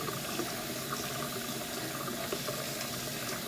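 Dried beans being rinsed and rubbed by hand in water, giving a steady soft wash of splashing and trickling liquid throughout, close and moderately quiet, with no talking.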